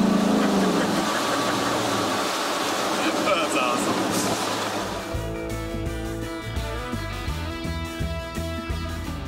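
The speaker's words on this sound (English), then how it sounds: "Can't even tell it's running when you're idling." A low, steady 5.0 Coyote V8 engine rumble idles quietly in a 1956 Ford F100 truck, with a broadband whoosh at first that fades away partway through.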